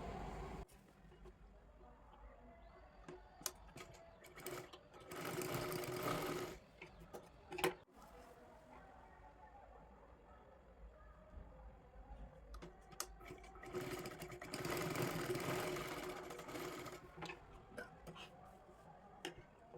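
A sewing machine stitches a blouse neckline in two separate bursts of running, each a few seconds long, with quieter handling and fabric rustle between them.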